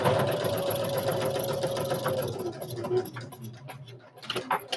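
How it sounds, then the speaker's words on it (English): Sewing machine stitching thick cotton fabric for a kids' reversible face mask: a steady, close mechanical whir with fast ticking runs for about two and a half seconds, then slows and gives way to softer handling clicks. "Overlap the stitches a little bit and backstitch to finish."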